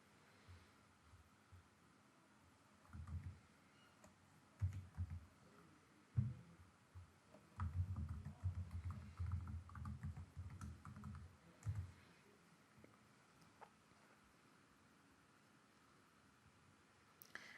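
Login details typed on a computer keyboard, a run of quick close key clicks in irregular bursts for several seconds against a quiet room hiss, then trailing off to near silence.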